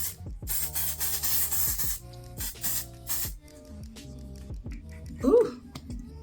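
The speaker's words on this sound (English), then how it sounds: "So I'm just gonna spray a little bit." Makeup setting spray is misted onto a face in a few short, close hissing bursts, two longer pumps followed by a quicker one, with a voice talking throughout.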